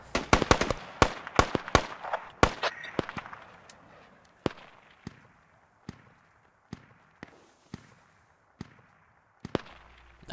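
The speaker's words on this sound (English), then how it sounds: "That sounds like an MG down on the southeast somewhere." Machine gun fire in a video game: rapid, loud bursts of sharp cracks for the first few seconds, then slower, spaced single shots echoing at moderate distance.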